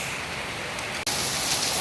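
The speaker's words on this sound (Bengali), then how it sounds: "এখানে বৃষ্টির কারণে দাঁড়ানো যাচ্ছে না এবং প্রচণ্ড বাতাস" Heavy rain from a Kalbaishakhi storm with strong wind pours down as a dense, loud hiss, broken by one sharp cut in the middle.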